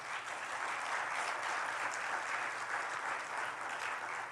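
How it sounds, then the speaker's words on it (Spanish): A church congregation applauding together, a sustained wash of clapping from many hands that stays even and moderately loud throughout, heard alone without speech. "Denle un aplauso a Jesús."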